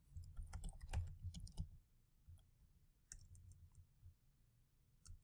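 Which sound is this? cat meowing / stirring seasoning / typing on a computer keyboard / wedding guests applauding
typing on a computer keyboard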